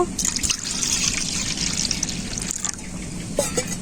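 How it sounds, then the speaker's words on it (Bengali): Water pours into a pot in a steady, close trickling stream lasting a few seconds, with small splashy shifts as the flow changes. "একটা পাত্রে জল নিয়ে নেব"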